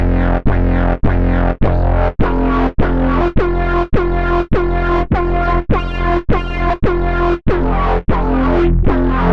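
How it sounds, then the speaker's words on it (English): A bright, buzzy phase distortion synthesizer chord in Ableton Live repeats in steady short pulses, about one every half second, with a gritty, harmonically rich tone and slight chorus. "And modern is a phase distortion approach."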